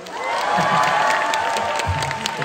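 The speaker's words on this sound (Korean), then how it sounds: "박수!" Concert crowd in Busan applauding and cheering for a vocal group, a dense, sustained roar of clapping and shouts with high-pitched cheers riding over it.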